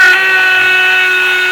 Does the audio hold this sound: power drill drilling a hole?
yes